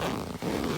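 A thin, lightweight zipper on a North Face Triarch 2 tent is pulled in one brief, close rasp with a short pause partway through.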